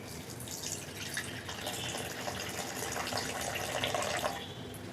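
Water trickles and splashes into a bowl of tamarind being soaked for a village-style fish curry, a steady faint pouring and dripping sound throughout with no talk.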